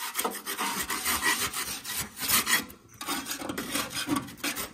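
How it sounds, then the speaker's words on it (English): Metal spatula scraping compacted grass clippings off the underside of a John Deere 2038R mower deck, a rough rasping scrape repeated in uneven strokes, close and fairly quiet. "You're just going to scrape some of that grass off."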